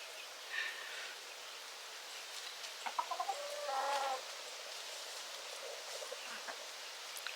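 A hen clucks while laying an egg, a short run of quick, agitated notes, fairly faint against quiet background hiss, with a few softer clucks afterward.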